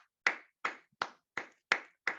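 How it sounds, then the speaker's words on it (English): Six sharp hand claps ring out one at a time at an even, unhurried pace, crisp and close in an otherwise quiet room, more like slow deliberate claps than a full round of applause. "round of applause to the team."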